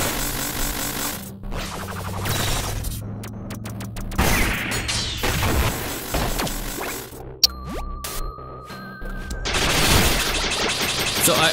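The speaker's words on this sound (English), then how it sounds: "I just gotta shoot out a missile." A missile shot fires in the side-scrolling video game Iconoclasts amid a busy mix of game effects: sharp bursts, a rattling mechanical burst, a sudden pop and a whooshing launch, with game music tones running underneath.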